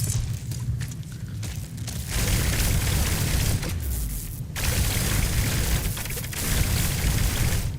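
Weapon blasts strip armor off a large acid-spitting creature in the No Man's Sky video game: repeated deep booming explosions with rumbling, crackling debris. The bursts come in heavy waves with brief dips between them.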